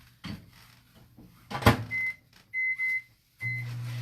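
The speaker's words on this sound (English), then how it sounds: "I'm going to pop this in the microwave." A microwave oven heating ground turkey for Asian lettuce wraps: a door thumps shut, a few keypad beeps follow, then a low steady hum starts.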